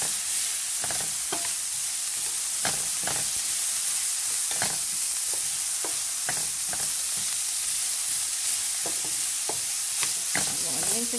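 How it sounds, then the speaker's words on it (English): Tofu tikka masala sizzles steadily in a pan while a spoon scrapes and stirs it in irregular strokes, a constant close frying hiss with no voices. "we want to give this a little stir around"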